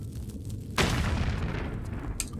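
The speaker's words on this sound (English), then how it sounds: "Like explosions." A sudden booming explosion bursts in during a Tomb Raider level editor game, a loud broadband blast that rolls on as a sustained rumble, followed by a brief sharper crack near the end.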